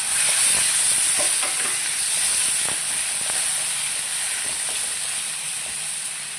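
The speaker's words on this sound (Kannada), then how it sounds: "ಸ್ವಲ್ಪ ಆಯಿಲ್ ಹಾಕಿ ಫ್ರೈ ಮಾಡ್ಕೊಳ್ಬೇಕು" Raw tomatoes frying in oil give off a steady, bright sizzle and hiss, with faint stirring clicks and scrapes, slowly easing toward the end.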